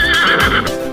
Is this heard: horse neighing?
yes